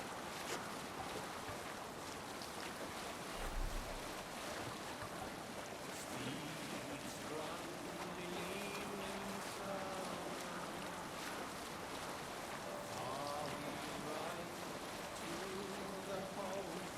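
A Viking longship under sail crosses open sea in Assassin's Creed Valhalla, with a steady wash of waves and wind running throughout and a low thump near the start, while voices and faint music sit underneath.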